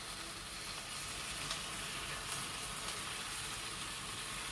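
Ground spice paste sizzling faintly as it is stirred into a hot pan of oil, a soft, even hiss that carries on steadily with small scraping flickers and no voices.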